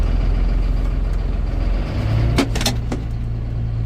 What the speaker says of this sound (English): Well, I got the tractor out of there.